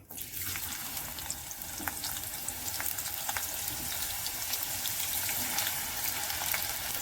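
Chopped onion frying in hot oil in a single pot for egg biryani, a steady broadband sizzle holding close and even for the whole stretch with faint crackles and no talking.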